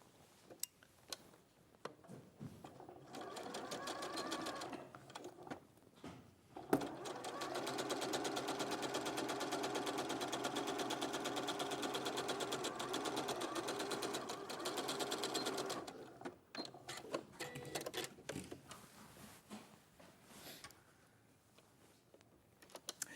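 A sewing machine stitches quilt pieces together in a steady, fast mechanical whir for about nine seconds, close and fairly loud, with scattered handling clicks and brief talk before and after.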